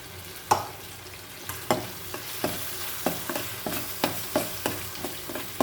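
A ground spice paste sautés in hot oil with a steady low sizzle, broken by regular scraping stirs of a spoon against the pan about once or twice a second.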